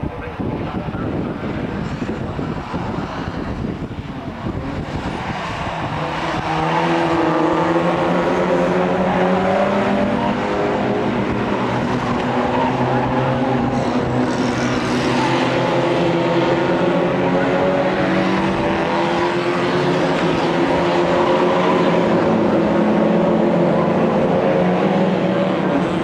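Ford Fiesta XR2 race cars racing at Croft Circuit, engines droning loudly with rising and falling revs as a pack of cars passes, building in the first seconds and then holding a sustained roar.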